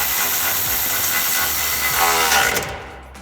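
A power tool whirs loudly and continuously at close range while the front exhaust hanger on a Mustang GT is tightened, then winds down and stops.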